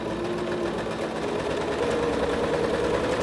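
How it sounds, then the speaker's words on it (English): A Singer SewMate 5400 sewing machine stitches through fabric with a steady, fast mechanical whir and rattle that keeps up an even rhythm throughout, close and alone. "I'm going to lower my presser foot to get ready to start sewing"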